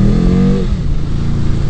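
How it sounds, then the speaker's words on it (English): A Honda VFR800 motorcycle on cold old tires revs hard during a rolling burnout at about 50, the loud engine note holding high and then dropping off as it rolls away. "I do something like I just did with cold old tires, pulling out and doing a rolling burnout at 50"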